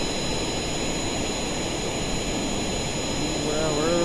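A jet aircraft engine roars steadily through a takeoff in the Kerbal Space Program game, a loud continuous broadband rush with a rising whine near the end.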